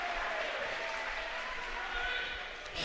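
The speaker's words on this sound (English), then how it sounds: "Crowd loving it." Crowd noise fills a high school boys basketball game against Immaculata, a steady roar of cheering and applause from the stands that swells and stays loud throughout after a play.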